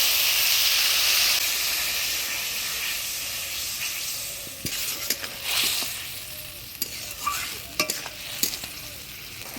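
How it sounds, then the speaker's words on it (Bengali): Ground spices for a Bengali village-style fish curry sizzle and hiss steadily in a hot pan, with scraping stirs growing more frequent and rhythmic toward the end; no voices. "এবার মশলার বাটি ধোয়া জল দিয়ে মশলাটা ভালো করে কষায় নেব"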